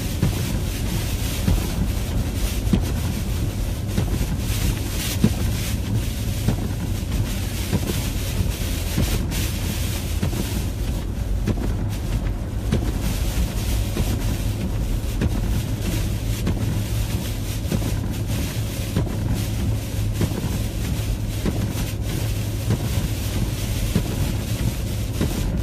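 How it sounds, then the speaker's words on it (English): A car cruises at about 40 miles per hour along Route 24 near Brockton, giving a steady unbroken rumble of road and wind noise with heavy buffeting and no voices. "I'm going closer to 40 miles per hour now on Route 24"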